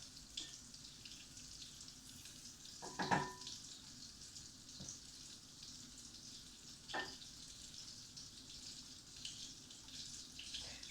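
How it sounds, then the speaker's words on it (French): Butter melts in a pan with a faint, steady sizzle and hiss, broken by a couple of soft clinks from utensils, and no one speaks. "J'attends que le beurre fond."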